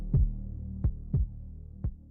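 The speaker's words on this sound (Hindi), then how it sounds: "दादाजी को अपने दिल की धड़कन अपने कानों में सुनाई दे रही थी" A deep, thudding heartbeat effect for a Hindi horror story, four slow, heavy low pulses evenly spaced over a droning background hum, loud and close with no voices.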